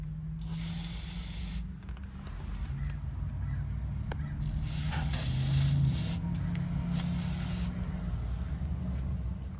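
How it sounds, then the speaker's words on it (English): Lubricant is sprayed onto bolts high up on a 1993 Bounder diesel RV during fuel tank removal, with three or four hissing bursts of an aerosol can, close and sharp, over a low background hum. "I'm going to spray each of these bolts way up in here."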